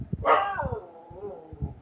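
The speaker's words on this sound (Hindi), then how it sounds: "नीचे मेरा कुत्ता भी बोल रहा है" A single drawn-out dog bark or howl nearby, rising then trailing off, with low thumping noises around it.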